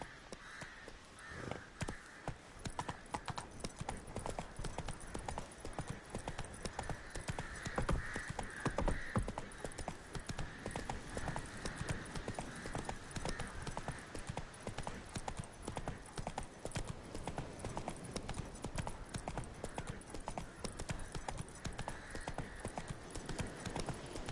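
Roach, a horse in The Witcher 3: Wild Hunt, gallops with a steady, continuous clip-clop of hooves that stays loud and close throughout, with crows cawing faintly in the background.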